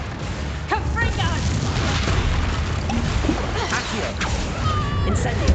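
Confringo blasting spell in the video game Hogwarts Legacy, with a dense, rumbling explosive roar and crashing effects that carry on steadily under game voices and chatter.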